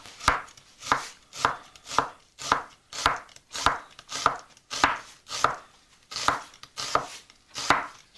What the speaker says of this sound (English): we're going to slice it a bit thin